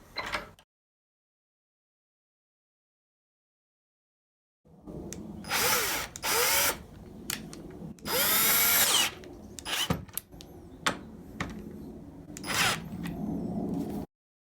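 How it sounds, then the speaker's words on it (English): A power drill drives screws into a door strike plate in several short, loud bursts after a quiet pause, with small handling clicks between the runs. "Let's see if we can tighten up the screws"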